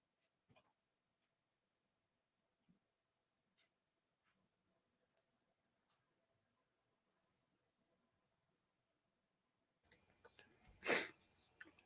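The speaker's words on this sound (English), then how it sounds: "1 second here, I have to sneeze." Near-silence with a few faint clicks, then a single loud, close sneeze bursts out near the end.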